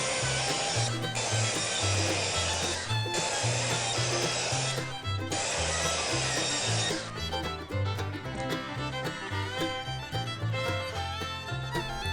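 A circular saw cuts wood for a Layens beehive, sounding in loud sustained bursts of whining blade noise with brief pauses between passes, alone and close up.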